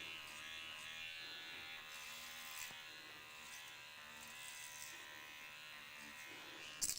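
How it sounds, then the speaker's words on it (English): A hair clipper, running low on power, gives a faint, steady electric buzz that drones on evenly with no talk, ending in a brief knock. "I think this clipper is running out of power, of course."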